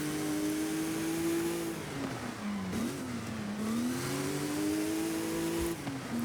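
A modernized legend race car in Forza Horizon 5, an A-class build on poor tires, drones steadily at high revs with engine pitch dipping and rising through shifts and corners, close and continuous with no talk.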